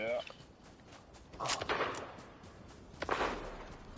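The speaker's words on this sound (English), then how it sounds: "Somebody's shooting over here." Gunfire in the Fortnite video game comes as a few faint, distant shots, with two clustered bursts standing out over low background noise.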